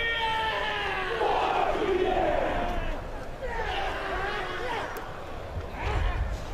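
A whole school crowd chants a haka war cry together, loud massed voices shouting in rhythm with a steady roar beneath, building in bursts throughout.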